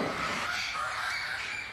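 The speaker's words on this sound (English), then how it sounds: "The birds are dehydrated and are crying out for water." South American parrots held in crates at an airport squawk in a faint, continuous chorus of harsh cries, heard from a short distance with no other sound competing.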